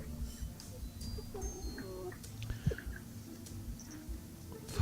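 Chickens cluck softly at a distance amid steady outdoor background noise, with a cat skulking nearby; short scattered clucks and calls continue throughout.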